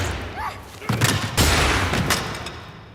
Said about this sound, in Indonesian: Meski tembakan siswi tidak mengenai Choi, momen tersebut lantas dimanfaatkan Okju untuk menembak Choi lebih dulu dengan senjata cadangan yang disimpannya.